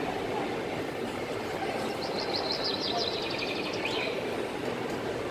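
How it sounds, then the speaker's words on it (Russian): Faint bird chirps come through midway inside a shopping mall, thin and high, under steady broadband noise and some background voices. "Даже птички щебечут. Слышите?"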